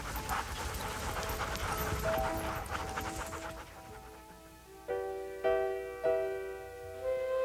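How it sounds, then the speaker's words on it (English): Sled dog huskies on a snowy spruce-forest trail panting steadily and close for several seconds, then fading as gentle musical tones rise in the background. "silent, except for the falling snow and your panting huskies"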